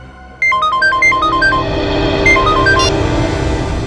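A phone ringtone plays a loud, bright electronic melody of quick stepped notes, repeating after a short gap over a low background hum in a crime drama scene.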